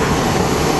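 An airplane at an airport during boarding gives a steady, loud engine roar that fills the brief moment without voices.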